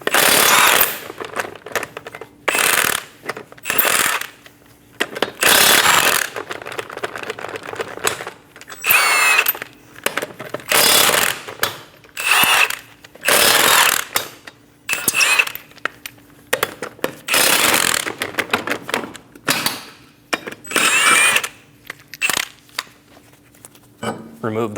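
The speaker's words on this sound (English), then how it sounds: "Using a 21mm socket, remove the 5 lug nuts." Power impact tool removing five lug nuts with a 21mm socket from a 2008-2015 Scion xB front wheel, loud close bursts of rattling hammering in repeated spurts separated by short pauses.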